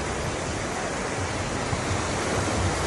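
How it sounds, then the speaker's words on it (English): Ocean waves wash onto a beach at sunset, a steady broadband rush of surf with some wind buffeting the microphone, continuous and fairly loud throughout with no talking. "Wait till the waves come, y'all."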